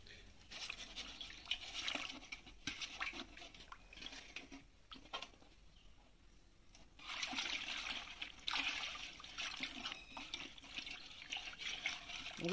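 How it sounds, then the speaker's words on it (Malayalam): Grow Magic Advance fertilizer powder being stirred into a litre of water as a feed for fruiting banana plants: a steady, soft swishing and trickling of liquid that swells at intervals, close by, with no voices. "1 ലിറ്റർ വെള്ളത്തിൽ 1 ഗ്രാം എടുത്തിട്ട് നമുക്ക് കലക്കാം"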